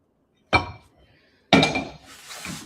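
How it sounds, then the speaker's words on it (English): Glass baking dish clinks sharply twice as hot beef tallow grease is poured in, each impact followed by brief ringing, the second trailing into a soft hiss. "So I'm putting it in this glass dish."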